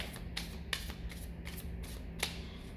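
Soft, faint card shuffling with light, evenly spaced taps and flicks, quiet and close with no talking.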